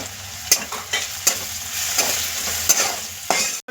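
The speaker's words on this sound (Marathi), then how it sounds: "आता हे मसाले 2 मिनिटं आपण तेलामध्ये फ्राय करून घेऊया।" Ground spices fry in hot oil for a carrot vegetable dish, a steady close sizzle broken by repeated sharp scrapes and taps of a spoon against the pan, with no talk.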